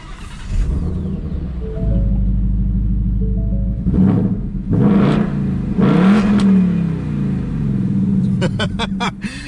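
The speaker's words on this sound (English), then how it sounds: "I love the exhaust on this car" A Ford Roush Mustang's exhaust in track mode, loud and close: a deep idling rumble broken by several sharp revs that rise and fall, ending in a quick series of crackling blips.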